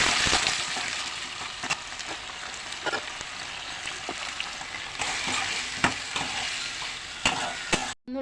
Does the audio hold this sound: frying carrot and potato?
yes